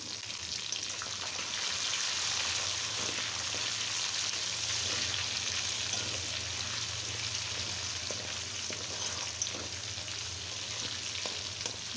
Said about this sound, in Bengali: জাস্ট 2-3 মিনিট একটু ভেজে নেব।